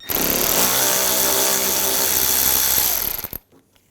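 A power tool fitted with a T25 socket drives out a bumper screw on a 2011–2018 Volkswagen Jetta, whirring steadily and loudly for about three seconds before cutting off.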